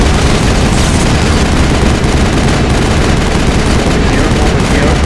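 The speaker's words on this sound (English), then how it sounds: "Keep shooting at him." Sustained automatic gunfire from the Mass Effect video game on PS3, a loud, dense and continuous rattle of shots with booming impacts mixed in, filling the whole stretch without a break.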